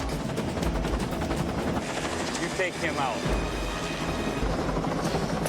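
A helicopter's rotor drones loudly and steadily throughout while someone speaks over it, in a scene from the film The Fugitive (1993).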